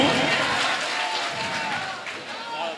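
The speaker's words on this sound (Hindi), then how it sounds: "ताली बजा के बताओ" Audience clapping at an All India mushaira poetry gathering, a broad, continuous wash of hands from the crowd that fades slightly toward the end, with some murmuring underneath.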